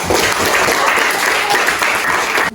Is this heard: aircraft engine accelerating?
no